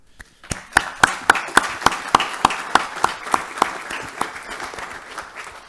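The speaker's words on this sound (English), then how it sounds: "Big applause for them." An audience at a conference applauds its panel: a few sharp, distinct claps spread out at first, then a rhythmic run of loud, evenly spaced claps over a softer patter of scattered hands that tapers off near the end.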